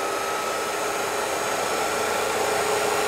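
An electric motor from an EV conversion spins a flywheel up to speed, giving a steady, loud, broadband whirring hum with a faint high whine that holds constant throughout, with no talking.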